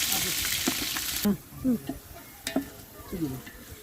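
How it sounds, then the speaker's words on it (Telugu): Onions fry in a pan, a loud sizzle at first that settles to a quieter crackle, with stirring scrapes and someone speaking over it. "ఆనియన్ వేసి ఇది గోధుమ కలర్ వచ్చే వరకు వేయించండి"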